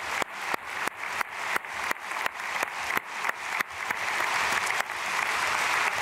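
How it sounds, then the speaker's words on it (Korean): A church congregation applauds during an early-morning service, starting as a string of evenly spaced bursts and then swelling into steady, sustained clapping that fills the room. "박수로 축복하겠습니다."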